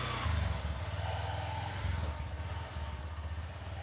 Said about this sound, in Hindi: तो ये स्टार्ट हो गई है बाइक